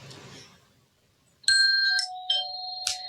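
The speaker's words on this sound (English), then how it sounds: "ding dong ding, that means the exercise is completed and it's time to celebrate" A ding-dong chime marks a finished exercise, a sequence of clear electronic bell tones ringing out alone and close after a moment of quiet.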